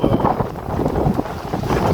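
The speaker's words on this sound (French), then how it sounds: "je sais pas si vous entendez, on entend là, le vent qui monte un peu là" Wind rising and buffeting around a sailboat under way, a steady broadband rush with gusty swells and low rumble, loud and close with no talking.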